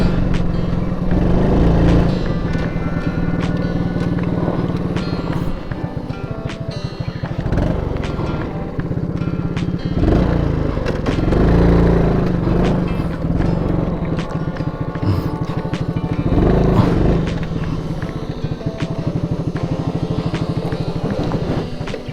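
Belt-driven motorcycle engine straining up a steep climb on a winding mountain road from Calamba to Tagaytay, droning loud and close with repeated rises and dips in revs as the throttle works the uphill.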